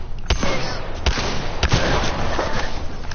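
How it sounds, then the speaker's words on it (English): Gunfire in the Apex Legends video game comes as a few sharp, loud shots spaced irregularly over a dense, noisy battle background. "I'm shooting and I'm hitting him"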